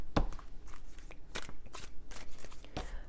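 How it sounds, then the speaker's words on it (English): A tarot card deck being shuffled by hand, a run of crisp riffling and crackling card snaps close by, with no talking. "I just shuffled this deck"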